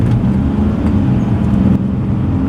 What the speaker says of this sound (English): That's my foot to the floor, and the gearbox is not keen on changing down